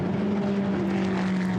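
A naturally aspirated Ferrari GT race car engine drones steadily and loudly on track during Blancpain GT Series pre-qualifying at Silverstone in 2017, holding a constant growling pitch throughout.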